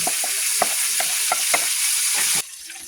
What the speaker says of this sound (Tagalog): Garlic with shallot. Garlic and shallot. Until brown.